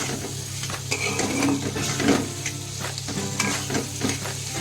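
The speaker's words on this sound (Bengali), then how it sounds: "এবার আমি এই মশলার সঙ্গে আলুটাকে আরও 5-7 মিনিট মতো কষিয়ে নেব" Potatoes being sautéed in a pan with spice masala in their own released oil, a steady close sizzle and frying hiss with occasional scrapes and clinks of a stirring spoon against the pan.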